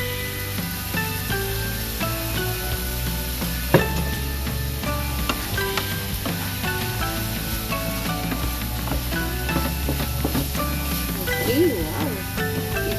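Bean sprouts stir-frying with black pepper and soy sauce, a steady sizzle with clattering stirring, partly buried under a continuous bed of background music.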